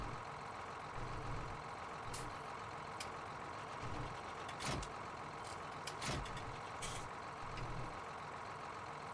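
Tractor engine in Farming Simulator 19 drones steadily at moderate level throughout, with a few brief higher-pitched mechanical clanks and hisses over the continuous rumble.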